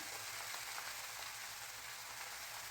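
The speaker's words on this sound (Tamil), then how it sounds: "இப்போ கீரையும் வதக்கிட்டு இருக்கிறேன்" Spinach greens sautéing in a pan at home, giving a steady, even hiss of frying that continues without a break and without any voices.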